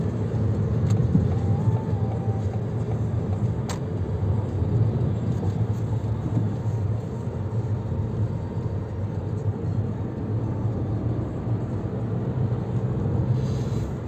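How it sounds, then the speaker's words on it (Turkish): A Ford Tourneo Courier 1.0 EcoBoost accelerates at full throttle, heard from inside as a steady, moderate engine and road rumble with no distinct rise, continuing evenly throughout. "Şimdi gazı kökledim."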